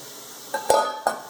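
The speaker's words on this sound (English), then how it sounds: "Now let's dump our pecans in." Pecans tumble into a pan of cooking butter pecan toffee, giving three short clattering impacts that settle into a brief sizzling stir, close and moderately loud with no talk.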